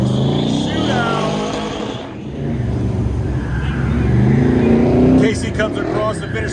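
A race car runs an autocross course at the Goodguys West Coast Nationals, its engine revving and shifting through rising and falling pitches close by while a voice talks over it.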